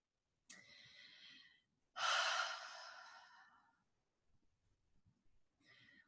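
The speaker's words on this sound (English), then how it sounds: "let's breathe together" Slow, deep breathing during a guided mindfulness exercise: a long inhale, then a louder, fuller exhale, and the start of another breath at the end, close and clear with no talking.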